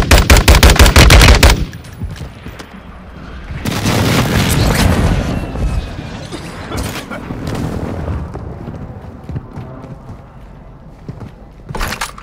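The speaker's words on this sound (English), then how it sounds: "Enemy precision airstrike. Find cover." A precision airstrike in the game Warzone 2 opens with a rapid burst of loud gunfire, followed by heavy rumbling explosions that swell and fade, then scattered shots and another sharp blast near the end.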